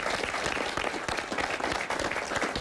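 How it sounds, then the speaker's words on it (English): Studio audience applause on a televised post-election special, brisk clapping from a crowd with individual hand claps standing out, moderately loud and continuous. "I want to give a round of applause to Shabana Baksh."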